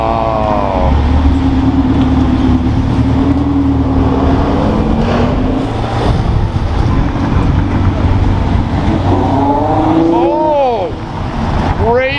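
A Ferrari 812 supercar with Vorsteiner parts, white with black, rolls past loudly with a sustained engine drone that rises in pitch toward the end, among other supercars and traffic.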